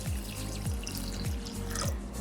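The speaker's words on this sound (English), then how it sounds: "We're going to add some water to it and rinse it nicely." Cocoyam leaves are rinsed in water for a Ghanaian kontomre stew, giving a steady close watery wash with a few soft sloshes repeating at a regular pace.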